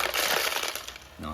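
A Bissell Perfect Sweep Turbo sweeper picking up metal nuts and washers, a short close burst of rattling, clinking metal under the rolling brush whir.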